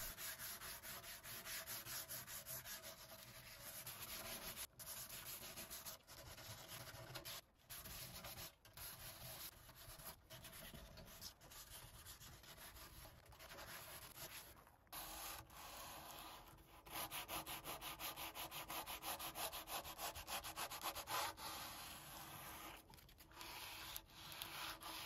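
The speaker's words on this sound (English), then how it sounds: "After all the sanding," Continuous rubbing and sanding strips old stain and finish from a mid-century modern wooden table, a steady close abrasive scrape running throughout with brief pauses and no talk.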